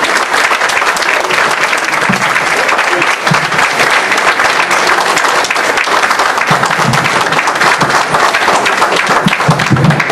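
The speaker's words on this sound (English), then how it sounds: "Please bring them on with a strong round of applause." A large audience applauds steadily to welcome Minister Tracy Muhammad onto the stage, with dense, loud clapping sustained throughout and no gaps.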